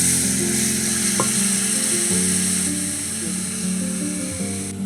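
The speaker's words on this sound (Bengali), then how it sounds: "এটাকে নাড়বো" Turmeric being stirred into a tamarind curry of lote fish in a pan, a loud continuous sizzle and bubbling with scraping stirs and a few metallic scrapes throughout.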